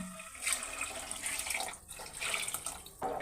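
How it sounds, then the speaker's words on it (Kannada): Water is poured into a pot for palak pulao, measured against the rice. The pour is a steady close splashing with a couple of brief breaks. "ಎರಡು ಲೋಟ ಅಕ್ಕಿಗೆ ನಾಲ್ಕು ಲೋಟ ನೀರು ಹಾಕೊಳ್ತಾ ಇದ್ದೀನಿ"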